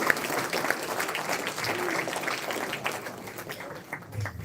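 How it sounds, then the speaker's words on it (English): Steady applause from a crowd, many hands clapping continuously throughout, fairly close and full, with a few sharper claps standing out. "I think they both deserve a massive round of applause"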